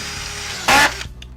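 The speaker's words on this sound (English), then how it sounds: "now I'm going to show how the corner fit works by driving a screw very close to an inside corner" A Senco DuraSpin screw gun drives a screw into drywall near an inside corner, a single loud whirring burst of about a third of a second that stops abruptly, with quiet workshop hum before and after.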